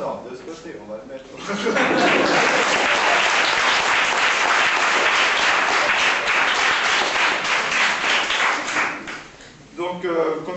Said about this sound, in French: je voudrais aussi qu'on les applaudisse surtout bien fort